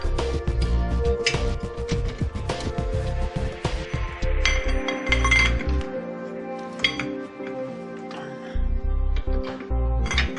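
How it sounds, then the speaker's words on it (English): A brake caliper bolt is pulled out on a 1990 Honda Accord, giving close, irregular metallic clinks and rattles in short bursts with brief gaps. "And the bolts just pull, the bolt pulls out."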